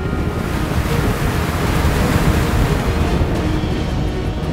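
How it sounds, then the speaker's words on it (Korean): Strong wind roars steadily over crashing sea waves on the deck of an octopus fishing boat, a dense, continuous rush of surf and gusts with no letup. "거친 바람과 파도로 인해 작업이 순조로울 리가 없을 터."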